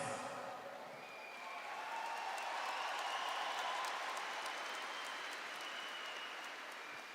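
Audience applause at a church sermon, a broad, sustained wash of clapping from a sizable crowd that swells slightly and holds steady to the end, with no speech.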